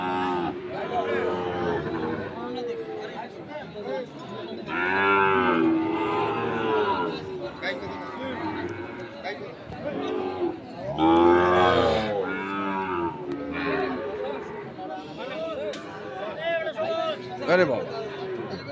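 Several loud moos from Sahiwal cattle rise above constant crowd chatter and nearby talking at the Ambari cattle market, with bellows coming at irregular intervals.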